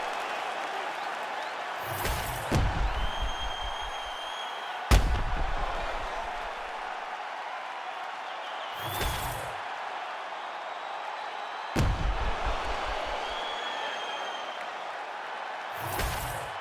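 Virtual arena crowd in the UFC 5 video game after a full 25-minute fight, a steady roar of cheering and applause punctuated by several sharp bursts and thuds, continuous and moderately loud throughout.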